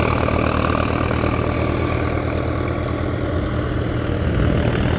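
A 2022 Swaraj 744 XT tractor engine runs at about 1500-1600 RPM, giving a loud, close, unbroken diesel drone with a steady low throb and no talk over it.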